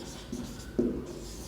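A pen scratches out two brief strokes as an answer is written down during a maths lesson on relations and mappings, faint and close with no talk.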